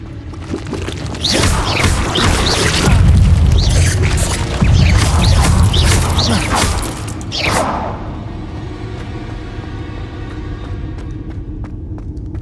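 Spell explosions from Bombarda and Confringo in Hogwarts Legacy, a loud roaring, crackling burst of blasts lasting several seconds before fading to a quieter rumbling tail.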